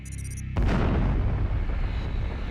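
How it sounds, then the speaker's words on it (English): Sudden deep explosion effect for a cosmic blast: a sharp heavy boom erupts after a brief tonal lead-in, then a long rumbling roar slowly decays, loud and alone. "satellites picked up the greatest cosmic explosion ever recorded."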